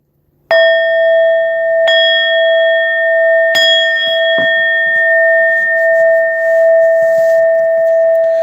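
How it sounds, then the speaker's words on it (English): A handbell rung during a livestream from South Jersey, struck about four times with clear ringing tones that sustain and decay, loud and close, with no talking over it. "One more ring of the bell."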